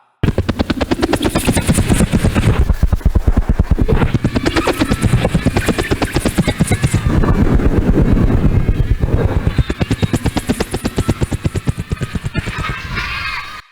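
A loud, steady helicopter rotor chop thunders continuously throughout, with a crowd audible beneath it at a children's event.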